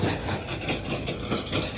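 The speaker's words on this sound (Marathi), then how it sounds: "हे बघा हे ट्रॅक्टर चालू आहे" A heavy engine runs steadily nearby, a continuous low rumble with a rhythmic chugging pulse.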